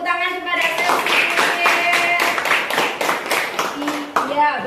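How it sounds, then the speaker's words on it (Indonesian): A classroom of students clapping for a classmate, a short burst of hand claps with sustained voices and chatter running underneath. "kasih tepuk tangan kepada Cecil"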